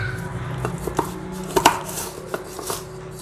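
Dried garlic being pounded into powder gives a series of sharp, irregular knocks and crunches, close and crisp, with quieter grinding between the hits.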